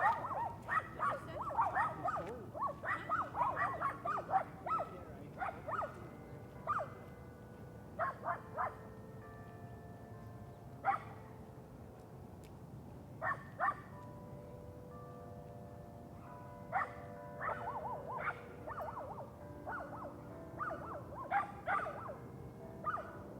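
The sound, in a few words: dogs barking on a walk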